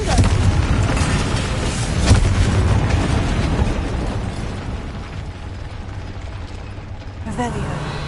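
A Confringo spell explosion goes off in the Hogwarts Legacy video game as a loud, dense burst. A rumbling crackle slowly fades over several seconds amid other game effects, with a voice nearby.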